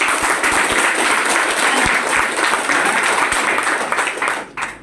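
Loud, dense applause from a crowd fills the room, holding steady before tapering off at the end.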